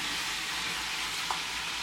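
Chicken pieces sizzle in a hot pan weighted down under a brick, a steady dense crackling hiss that runs without a break for the whole moment, close and fairly loud, with no voice over it.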